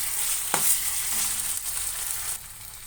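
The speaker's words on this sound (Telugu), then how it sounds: "కొంచెం అల్లం పేస్ట్ యాడ్ చేసుకోవాలి సో బాగా మిక్స్ చేసుకోవాలి" Ginger paste stirred into a frying egg curry, giving a bright continuous sizzle with an early spoon scrape and knock, then quieting slightly toward the end.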